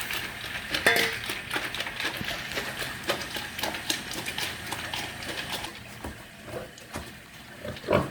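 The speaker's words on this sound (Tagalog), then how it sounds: "So, ganun lang pa kayo yung mga baboy." Pigs on a backyard farm being fed, with scattered grunts and clattering from the pen, steady and fairly close, with no speech.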